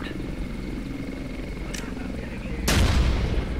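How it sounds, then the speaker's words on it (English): A frag grenade blast in the tactical shooter Ghost Recon: Future Soldier, a sudden loud broadband boom near the end that rolls into a rumbling tail over a steady background of game ambience and helicopter-like drone. "Frag going out."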